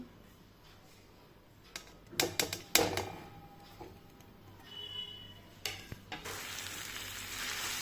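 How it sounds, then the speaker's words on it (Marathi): Khoa milk solids frying in hot ghee in a kadai, quiet sizzling broken by sharp spatula taps and scraping strokes, with a louder burst of frying toward the end. "बघा खवा पूर्ण असा परतून घ्यायचा"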